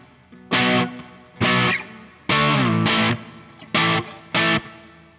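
Five short bursts of heavily distorted electric guitar chords ring out with a long spring-reverb tail, separated by brief quiet gaps.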